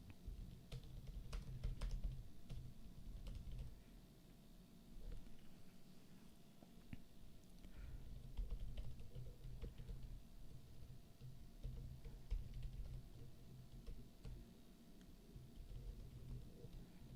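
A computer keyboard clatters with quick bursts of soft key taps as a chat message is typed, faint and close, set against low background hum.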